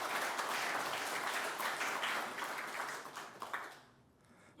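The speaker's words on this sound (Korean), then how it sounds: "의원식 의장님 박수 한번 해주시기 바랍니다." Audience at a Korean pro-democracy council 40th anniversary ceremony applauds, dense clapping that stays steady, then fades out near the end.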